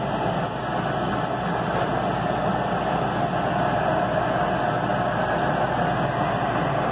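Industrial cooling fans on an EQF 1 two-colour flexo label printing machine run in a steady, even whir with a broad hiss and low hum, constant throughout with no talk.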